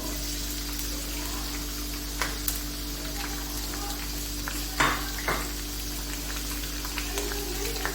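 Onions frying in oil in a pan give a steady soft sizzle with a few brief crackles and pops, low and continuous with no talking.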